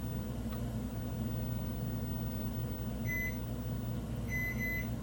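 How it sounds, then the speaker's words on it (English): A kitchen timer beeps twice, short clear electronic tones over a steady low kitchen hum. "So I'm setting my timer right now."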